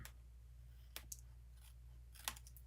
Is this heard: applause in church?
no